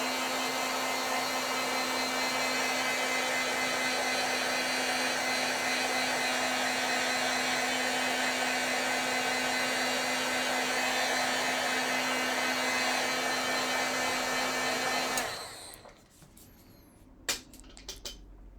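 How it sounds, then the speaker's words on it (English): Steady, loud whirring roar of a heat tool drying and heat-setting layered acrylic ink, running continuously for about fifteen seconds before switching off, followed by a few faint handling clicks. "Maybe I'll just heat set it real fast right here."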